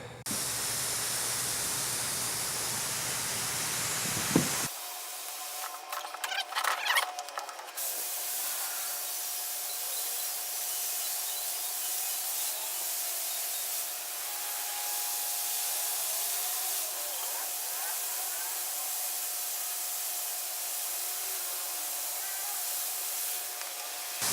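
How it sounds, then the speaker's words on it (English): A garden hose sprays water onto a Six Moon Designs Lunar Solo LE tent to test its seam sealing. Water rushes and hisses in a steady, loud, continuous spray, with a brief patter of drops early on. "I'm gonna fire up the hose and see how good my seam sealing job was"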